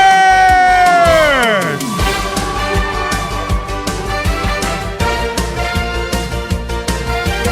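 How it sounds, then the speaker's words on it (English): A pageant audience applauds and cheers as a contestant is introduced. A descending musical swell fades into continuous, fairly loud rhythmic clapping with crowd noise. "Keep your applause going as we say hello to Miss Anique Roberts"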